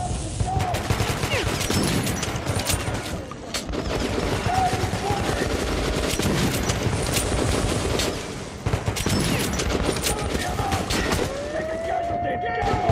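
Rapid gunfire in the shooter game Metro: Last Light, with dense bursts and repeated shotgun-like blasts under near-constant combat noise and a voice talking over it.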